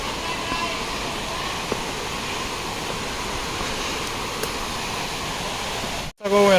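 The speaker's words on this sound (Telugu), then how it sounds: "వెనకాలే ఉంది కదా వాటర్ ఫాల్" Forest waterfall near a slippery road at Maredumilli, a dense, steady roar of falling water filling the whole stretch, loud and unbroken until a brief dropout near the end.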